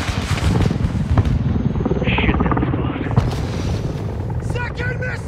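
A missile explodes close to a military helicopter in Call of Duty: Modern Warfare 2, a heavy booming blast over the constant rotor roar, with radio chatter and voices talking throughout.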